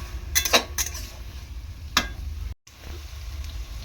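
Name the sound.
stirring taro leaves with prawns and tomato in a frying pan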